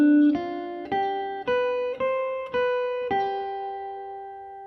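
A guitar picks a pentatonic raag-style phrase over a minor chord: six clear plucked notes in an unhurried rhythm, each ringing into the next, close and clean with no voices.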